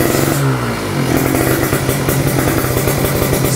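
A Kawasaki Ninja two-stroke motorcycle, started after sitting unused for two months, idling and warming up with a loud, raspy, rapidly pulsing exhaust that steadies after a brief rise at the start.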